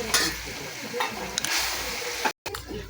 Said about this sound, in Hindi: लहसुन मिर्च अदरक का पेस्ट। ठीक है गाइस, उसे हिलाएंगे हम।